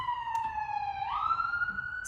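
A police siren wailing outside, one steady tone that rises in pitch partway through, moderately loud and alone.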